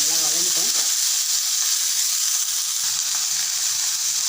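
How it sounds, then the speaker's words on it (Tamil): Ivy gourd (kovakkai) sautés in a pan with a loud, continuous frying hiss; a voice briefly speaks at the very start. "இது நல்லா வதங்கிட்டோம்."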